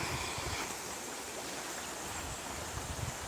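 Ogmore River running at roughly normal level, a steady broadband rush and hiss of flowing water with a few low gusty thumps, fairly faint and continuous with no voices.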